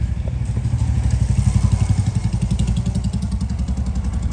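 A Royal Enfield Bullet motorcycle thumps steadily along a road, its single-cylinder engine giving a rapid, even pulse that stays loud and close throughout with no talk.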